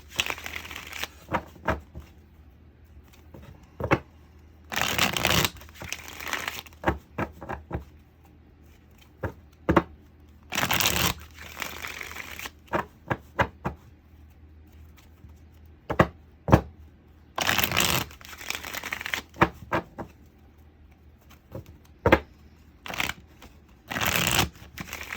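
Tarot cards being shuffled in repeated bursts of crisp riffling and slapping, close by, separated by quiet pauses.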